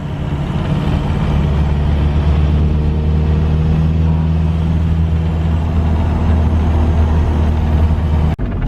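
A Toyota with a swapped TDI diesel engine is driven with a slipping clutch, giving a loud, continuous low engine drone and road rumble heard from inside the cabin, steady throughout and ending in a brief cutout.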